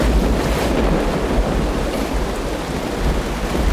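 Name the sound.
heavy rain with thunder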